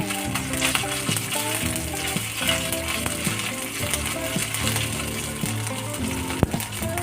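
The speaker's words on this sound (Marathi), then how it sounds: "एक चमचा आलं लसूण पेस्ट मिक्स करून घ्यायचं व्यवस्थित असं लसूण फ्राय करून घ्यायचं" Ginger-garlic paste fries in hot oil with cumin and mustard seeds, giving a steady close sizzle with scattered crackles and pops throughout.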